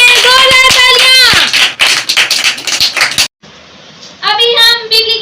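Enthusiastic clapping from an audience at a kids' ministry Bible competition, loud at first, then thinning to scattered claps before a brief drop to quiet, with a voice speaking over parts of it.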